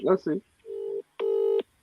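Touch-tone beeps from a phone placing a call, with two clear, evenly held dialing tones separated by a short pause, following a brief burst of voice at the start.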